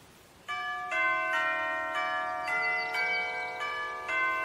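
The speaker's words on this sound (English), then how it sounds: "Try the doorbell, Evie." A doorbell chimes a long, melodic sequence of ringing bell tones, clear and close, each note overlapping the next like a tune.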